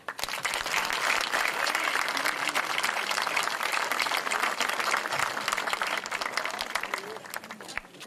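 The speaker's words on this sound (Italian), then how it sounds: "Facciamo un applauso." Sustained audience applause at an outdoor military commemoration in Montebello della Battaglia, dense clapping holding steady for several seconds before thinning toward the end, with some voices mixed in.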